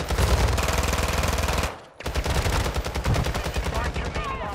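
Rapid automatic gunfire rattles in Call of Duty: Modern Warfare II, a dense loud burst, a brief gap, then more bursts of fire with scattered voices in the mix.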